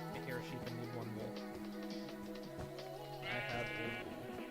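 Sheep in the Minecraft video game, Beta 1.7.9, bleat several times in short wavering calls, clear and near, with game sounds underneath.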